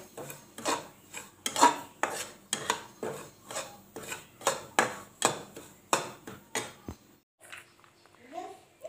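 Semolina roasting in ghee in a pan for sheera, stirred with a utensil that makes regular scraping, rasping strokes about every half second, close and steady, then a brief quiet stretch at the end.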